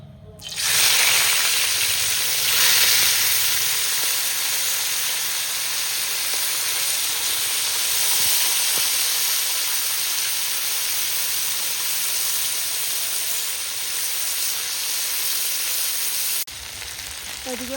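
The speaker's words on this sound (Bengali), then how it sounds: "এদিকে মাছ ভাজা হচ্ছে" Fresh river fish sizzle in hot oil for a Bengali fish curry, a loud, steady hiss and crackle that continues unbroken at close range before cutting off near the end.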